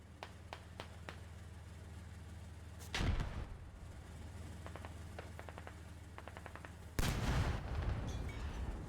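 Gunfire and artillery in the military shooter game Squad, heard from inside a tank crew position: scattered sharp distant shots, two heavy booming blasts, and a steady low engine hum beneath.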